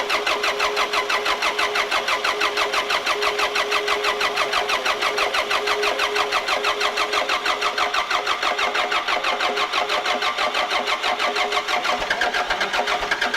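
A forklift engine runs steadily and loudly, a dense mid-pitched mechanical drone with rapid regular firing pulses throughout, close and continuous with no speech.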